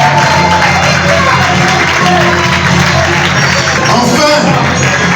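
A crowd at a children's reading contest during a Libreville youth book fair applauds steadily and loudly, a dense wash of clapping with crowd noise and a voice underneath.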